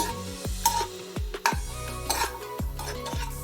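Cashews and dried grapes frying in ghee for sweet pongal, with a spoon stirring and scraping the pan in several sharp clinks over a soft, steady sizzle, close and fairly quiet.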